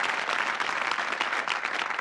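Studio audience applauding on the Bullseye game show, a dense, steady wash of clapping that holds at an even level throughout without any talk.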